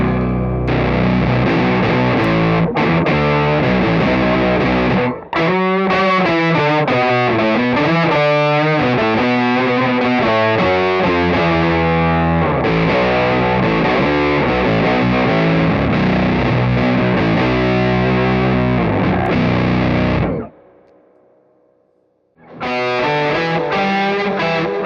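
Electric guitar runs through a POG octave pedal stacked with distortion, playing thick, layered octave chords and riffs loudly for long stretches, with a brief drop to near silence before the playing resumes.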